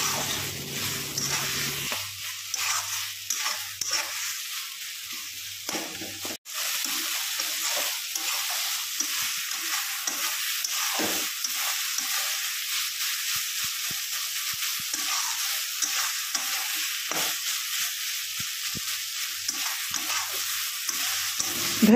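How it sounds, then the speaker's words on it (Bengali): Shredded chicken frying in oil with spices for a curry, stirred steadily in the pan; a continuous close sizzle runs throughout with scraping stir strokes and a brief dip partway. "দিয়ে আবারও মশলা সহ চিকেনটা ভালো করে ভেজে নিয়েছি।"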